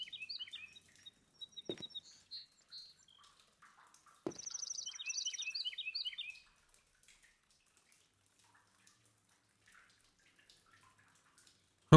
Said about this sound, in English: Oh, little bird.